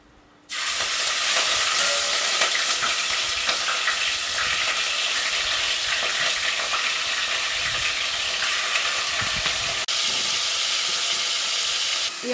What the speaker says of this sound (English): So you put oil into your sufuria, and then when it's heated up, you now add your meat.